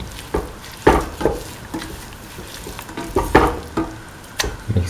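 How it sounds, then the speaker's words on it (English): A ground mixture of coconut, fennel and coriander is sautéed and mixed in a pan, with repeated scraping strokes of a spoon over a low sizzle, close and moderately loud. "Now put in the coconut, fennel, coriander mixture that we ground earlier, and mix"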